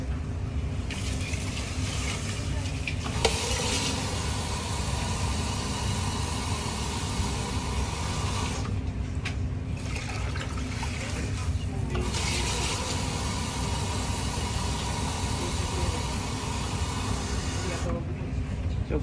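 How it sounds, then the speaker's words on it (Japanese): Steady running water pours and splashes continuously as a large cooking pot fills with about four liters, with brief pauses and a few soft clunks along the way. "水を入れます。"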